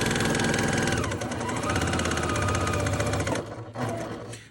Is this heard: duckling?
no